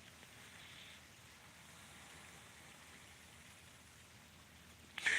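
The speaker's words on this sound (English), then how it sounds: "It is fucking raining out here" Steady rain falls outdoors, a soft continuous hiss of drops at moderate distance with no talk, ending in a brief louder rustle.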